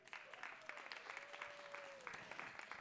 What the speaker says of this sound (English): can we give a big round of applause for our performers in the building?